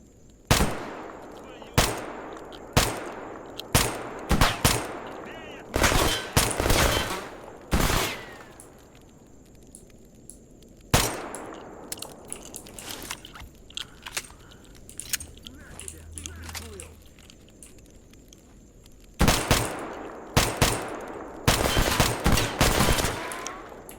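Gunfire in the video game Escape From Pripyat, with a Glock among the weapons: sharp repeated shots, some single and some in rapid bursts, spread across the clip with quieter gaps between volleys.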